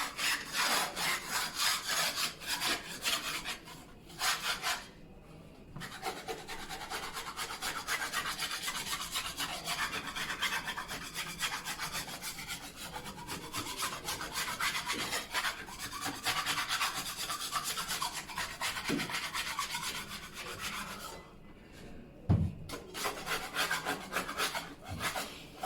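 Steady, firm scraping of old crud off a damaged, dried-out wall being prepped for painting, a close, continuous rasping with brief pauses, no talking.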